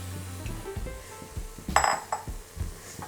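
Cauliflower stems tipped into masala in a cooking pan, giving a few clinks and scrapes of metal and utensil against the pan, with soft low thuds between them. No one speaks.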